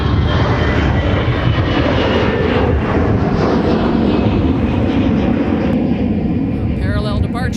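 An Aer Lingus jet airliner takes off from Minneapolis–St. Paul airport, a loud, close, continuous engine roar with a faint rising whine toward the end, with voices murmuring underneath.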